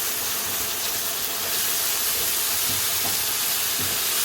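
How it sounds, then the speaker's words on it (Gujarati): Vegetables dropped into hot spiced masala in a kadai, giving a loud, steady sizzling hiss that swells as they hit the pan, with no talk. "નાખી દઈએ આપણે સબ્જી."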